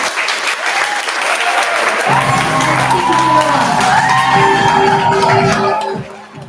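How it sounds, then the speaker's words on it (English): An audience at a Shark Tank-style pitch event bursts into loud applause mixed with whoops, shouts and cheering, sustained for several seconds before quickly fading away at the end. "Can we please have a huge round of applause for our"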